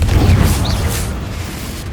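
Confringo blasting spell detonating in the Hogwarts Legacy video game, a loud deep boom with a burst at the start that rolls off into a long rumbling decay, with no voices over it.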